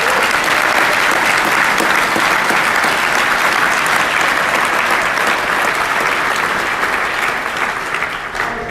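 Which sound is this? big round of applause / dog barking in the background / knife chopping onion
big round of applause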